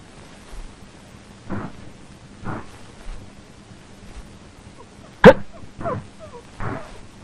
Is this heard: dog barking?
yes